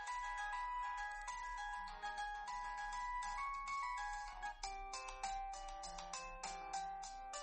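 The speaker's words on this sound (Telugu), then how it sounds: "Ring tone default." Default ringtone of a Jio Bharat V2 4G keypad phone: a bright electronic melody of quick tinkling notes, played alone and close, fairly quiet.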